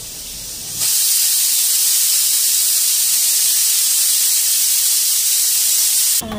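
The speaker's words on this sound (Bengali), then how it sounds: "আর এখানে বেগুনি ভাজা হইতেছে" Brinjal fritters (beguni) sizzle in hot oil in a home kitchen, a loud, steady broadband hiss that starts abruptly about a second in and holds without a break, with no talk over it.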